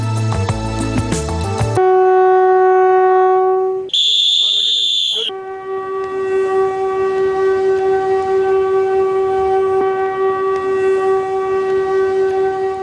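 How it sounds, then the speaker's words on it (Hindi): Kalka–Shimla narrow-gauge toy train of Northern Railways pulling away, a loud sustained horn tone with a brief higher whistle blast, then a long steady horn note over rumbling carriages. "ट्रेन चल पड़ी है कालका से शिमला की ओर"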